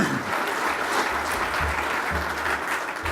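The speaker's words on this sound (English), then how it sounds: "A round of applause for Paul accepting this." A crowd applauds with dense, sustained clapping, steady and fairly loud throughout the short stretch.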